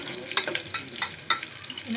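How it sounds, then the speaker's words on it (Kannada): Onions stir-fried in a pan until brown for egg biryani, a steady sizzle broken by sharp scraping clinks of a spatula at irregular intervals, close and moderately loud. "ಬ್ರೌನ್ ಕಲರ್ವರೆಗೂ ಚೆನ್ನಾಗಿ ಈರುಳ್ಳಿ ಉಳ್ಳಾಗಡ್ಡಿ ಹುರ್ಕೊಳ್ತೀವಿ."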